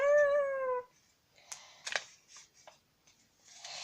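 A voice gives a short, rising meow imitation, followed by quieter scattered clicks and rustling noises.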